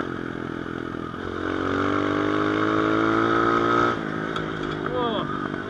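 A Hurricane V2 250cc dirt bike is ridden along a winding road, its engine droning loudly and close as the revs climb, hold, then drop off toward the end.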